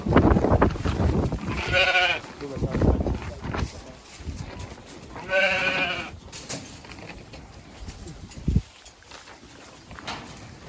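Hungarian Merino sheep and lambs bleat on a farm, two loud, close, wavering calls a few seconds apart, with people talking in between and a sharp knock near the end.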